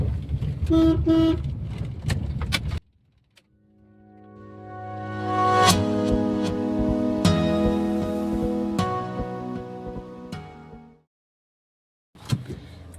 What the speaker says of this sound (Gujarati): નરેશ ગાડી ચલાવે.